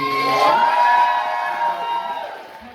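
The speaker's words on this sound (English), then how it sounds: "Now, can we have a round of applause for Rhiannon, please?" Crowd at a comedy roast set cheers and shouts for a comedian, a loud, sustained roar of voices with whoops that swells early and gradually fades.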